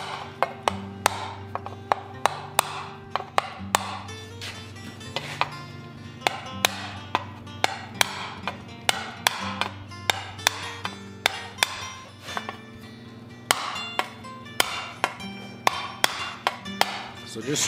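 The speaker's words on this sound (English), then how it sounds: "So just drop it down with my little curb chisel there." A small curb chisel is hammered into metal sheet while detailing a repoussé wolf head, with sharp ringing taps in quick, irregular bursts, close and fairly loud, and some brief talk under them.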